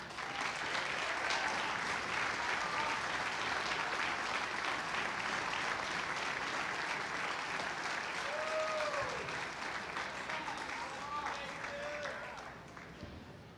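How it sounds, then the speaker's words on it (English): A crowd applauds at the U.S. Amateur bowling stepladder finals, with continuous broad clapping filling the room and a voice speaking over it. "how about another great big round of applause for our U.S."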